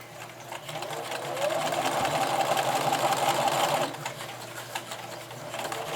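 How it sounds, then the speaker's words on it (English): A sewing machine stitches steadily around a lined bag made from recycled denim jeans, a continuous mechanical whir that holds for a few seconds, then eases to a softer running hum. "And I'm going to sew all the way around."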